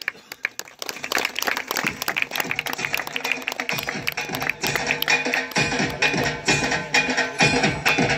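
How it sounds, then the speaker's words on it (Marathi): An audience at a formal ceremony, where a lamp-lighting is under way, breaks into loud, sustained clapping that starts sparse and swells into dense applause for the whole stretch. "सर्वांनी टाळ्या करून त्यांचं स्वागत करायचं आहे."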